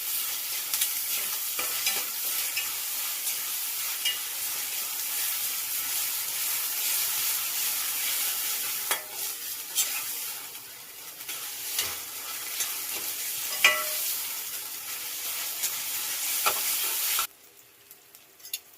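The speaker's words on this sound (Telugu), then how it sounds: "పచ్చి వాసన పోయేదాకా ఫ్రై చేసేసుకోవాలి. కరివేపాకు కూడా ఇప్పుడే వేసేసుకోవాలి. కొంచెం ఫ్రై చేసుకుందాం." Curry masala with curry leaves sizzles and fries in hot oil, a steady bright crackling hiss with occasional stirring scrapes, then drops abruptly to quiet near the end.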